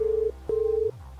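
A telephone keypad dials two steady tones in quick succession, each held briefly with a short gap between, clear and close against a faint hum.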